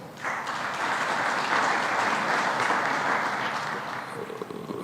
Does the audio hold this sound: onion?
no